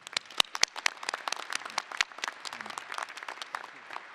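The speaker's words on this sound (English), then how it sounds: "Let's give a round of applause to all our panelists." Audience applause for the panelists at a statewide wildfire resilience event, a few seconds of scattered claps rising into a steady round of clapping with sharp individual hand claps up close.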